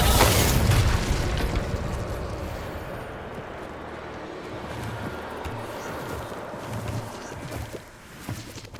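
In the Hogwarts Legacy video game, an Incendio fire spell erupts with a loud whooshing burst, then settles into a sustained crackling, roaring fire that slowly fades.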